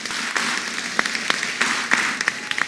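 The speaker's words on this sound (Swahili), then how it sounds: "Yes, tuwapigie makofi" A church congregation at a commissioning service claps, with scattered individual claps heard at moderate distance over a soft background hush.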